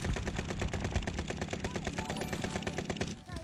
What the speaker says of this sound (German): Ich weiß nicht mehr, wo die auf mich schießen